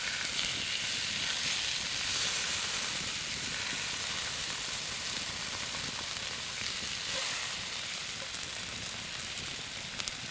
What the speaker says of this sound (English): I'm going to lift it up and sear the edges of the steak too.